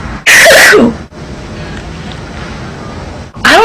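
One sharp, loud sneeze right up close, followed by a few seconds of quiet background, then a second sneeze that begins just as the sound cuts off.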